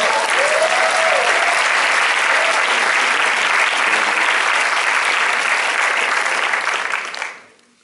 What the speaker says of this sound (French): on peut vraiment les applaudir, ils sont trop forts